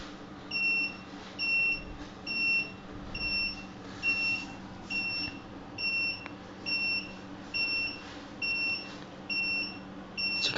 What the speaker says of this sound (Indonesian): maka buzzer akan terputus-putus semakin lama waktu matinya